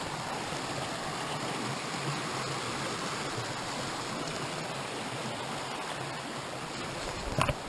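A small creek flows in the woods in a steady, moderately faint rushing babble with no voices, and a brief knock comes near the end.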